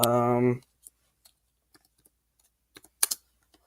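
Computer keyboard keys clicked sparsely in light, separate taps after a short burst of voice, ending in a quick cluster of louder presses, close and dry.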